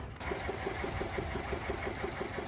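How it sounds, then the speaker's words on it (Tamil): A launch boat engine cranks and catches at a jetty, then settles into a steady rhythmic chugging idle, close and loud throughout, on a sea trip to an island off Jaffna. "இன்ஜின் ஸ்டார்ட் பண்ணியாச்சு"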